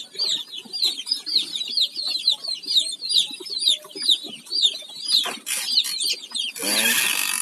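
Chicks and chickens in a rural Philippine yard, with a chick peeping in rapid repeated high chirps while hens cluck softly beneath, ending in a louder burst of squawking and flapping, close by.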